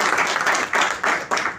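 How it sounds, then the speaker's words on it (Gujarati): An audience claps in a steady wash of applause, with a few louder surges as the clapping swells and fades, with no voices over it. "જોરદાર તાળી આપે"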